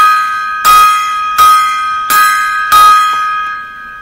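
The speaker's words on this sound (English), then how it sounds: "Five gong salute for Roger E." A gong rings out in a salute of sharp strikes spaced roughly evenly, each hit blooming into a bright shimmering tone that decays before the next, loud and close with no voices.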